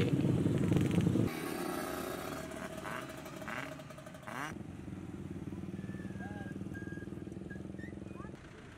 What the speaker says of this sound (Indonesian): sekumpulan remaja yang mengendarai sepeda motor kelompok bising ini kerap melakukan balapan liar